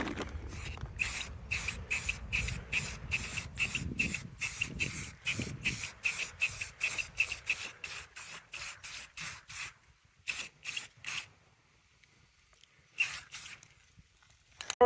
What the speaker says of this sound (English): Now I'm going to go back over it with a black spray paint.